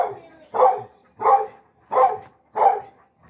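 Dogs bark at a chicken coop on a back porch, four loud, evenly spaced barks close by, with short quiet gaps between them.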